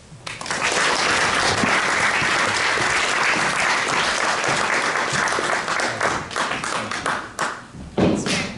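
Sustained audience applause greets a speaker at an evening city talk on sustainable cities, loud and steady for several seconds before trailing off into scattered claps.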